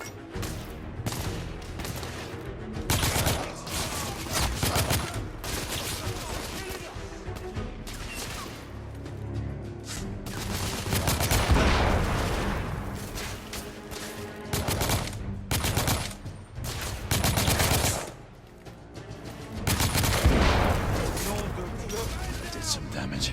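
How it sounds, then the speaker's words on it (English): Heavy gunfire in The Order: 1886 video game, dense bursts of rapid automatic fire and single shots crackling in waves across the whole stretch, with a short lull near the end. "Taking heavy fire!"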